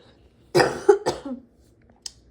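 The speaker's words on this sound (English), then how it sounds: "Hold on, I got a cough." A few harsh, raspy coughs close to the mic in quick succession, then a short pause and a faint final sound.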